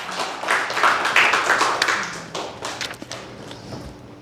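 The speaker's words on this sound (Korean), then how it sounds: "박수, 박수, 박수, 박수, 박수, 박수." A church congregation in Incheon claps together during a Sunday sermon, a dense and steady patter of many hands that fills the room for several seconds and thins out toward the end.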